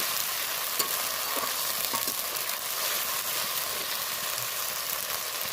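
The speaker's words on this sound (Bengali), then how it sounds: "আমি এর মতে দিয়ে দেবো এই মশলা পেস্ট করে রাখা মশলাটা ভালো করে নাড়িয়ে কষিয়ে নেবো" Onions and spice paste fry loudly in a pan while being stirred, a steady close sizzle with occasional scraping of the spoon, no talking.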